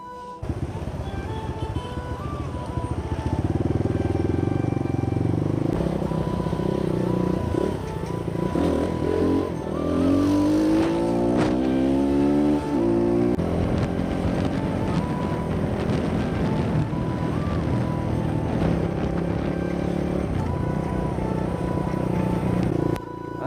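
A dirt bike engine runs loud and close, holding a steady drone and then revving up midway with a rising whine before settling back to a sustained roar. No one speaks.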